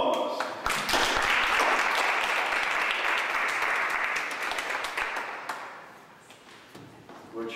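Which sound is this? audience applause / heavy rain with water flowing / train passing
audience applause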